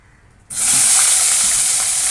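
Mixed vegetables (pumpkin, eggplant, potato, ridge gourd and pointed gourd) hit a pan of hot oil tempered with panch phoron. A loud, steady sizzle bursts in suddenly after a quiet moment and keeps hissing without letup.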